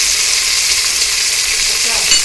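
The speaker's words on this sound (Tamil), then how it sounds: "பெரிய வெங்காயம் வதக்கும் போதே நம்ம கொஞ்சம் உப்பு போட்டு வதக்கணும்" Onions sautéed with salt in a pan for paneer biryani, a loud, steady hissing sizzle that holds evenly throughout, close by and without voices.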